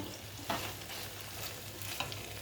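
About three potatoes frying in a home kitchen pan, giving a steady low sizzle with two brief stirring scrapes, quiet and without talk.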